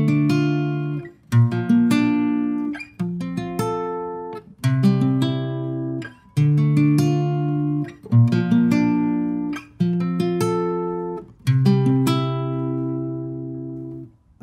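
Acoustic guitar finger-picking the chords of a song, each chord plucked as a rolling pattern then left to ring, repeating evenly through a steady progression with no talking.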